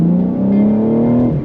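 A BMW M4 with a manual gearbox accelerates hard on an open road, its engine note climbing steadily in a loud, close, continuous rev for a second and a half.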